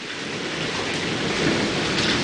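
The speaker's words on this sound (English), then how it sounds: "We're not hailing, but thundering." Steady, dense rain pours through a thunderstorm with lightning in the clouds, with a low, continuous rumble of thunder blended into the constant downpour and no voices.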